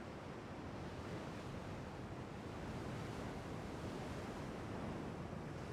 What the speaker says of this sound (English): that's actually loud ocean noises